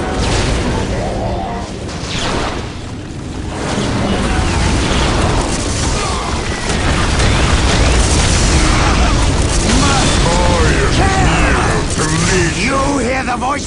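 Battle noise from the real-time strategy game Warhammer 40K Dawn of War Dark Crusade with a Chaos army: dense, continuous gunfire and booming explosions fill the whole stretch, loud and layered, with game voices mixed in.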